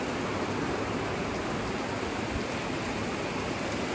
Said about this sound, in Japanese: 豪雨です。